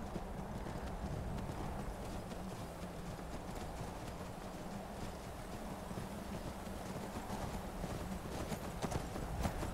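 Horse hooves clip-clop steadily in the Skyrim video game, a continuous rhythmic clatter of footfalls at close range over a constant low rumble, with no talking.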